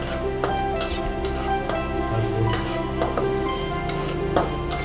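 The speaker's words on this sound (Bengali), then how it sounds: "ভালো করে ভেজে নিতে হবে।" Steady sizzling of cumin seeds frying in hot oil in a heavy kadai, with occasional scrapes and clinks of a spoon stirring, no voices.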